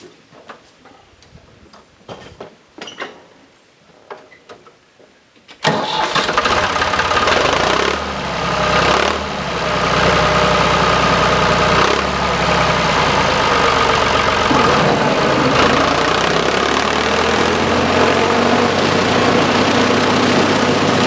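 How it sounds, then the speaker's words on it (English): A few quiet ticks and clicks, then a tractor engine starts up loud and runs steadily in first gear with a chugging rumble while mowing clover, staying close and continuous. "You notice I'm mowing in first gear. There's 8 gears in that tractor."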